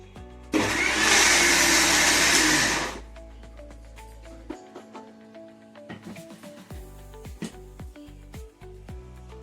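A kitchen mixer grinds boiled tomato and tamarind for red chilli chutney, a loud steady whirring burst lasting a few seconds before cutting off, followed by quieter clinks and handling noises.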